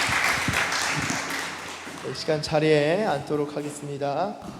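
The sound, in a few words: congregation applause in church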